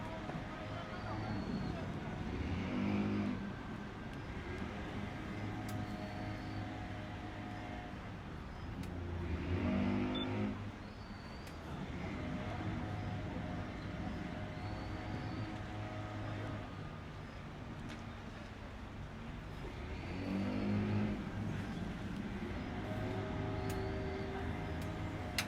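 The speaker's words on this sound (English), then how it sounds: "So they're still using their engines to push the dolphins." Boat engines run in a cove while driving melon-headed whales and dolphins, a low continuous motor drone that swells and fades at a distance, with a voice talking over it.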